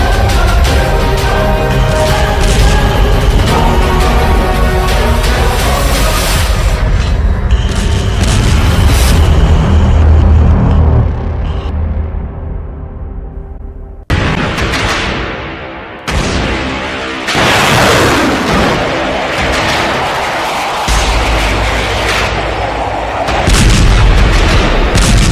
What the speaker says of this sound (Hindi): एक 1000 तोपों से हमला